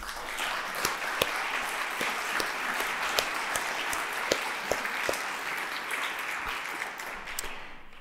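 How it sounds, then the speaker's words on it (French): An audience at a launch evening for inclusivity month applauds warmly, with dense, sustained clapping and a few sharper individual claps standing out near the front, tapering slightly at the end. "on peut les applaudir chaleureusement"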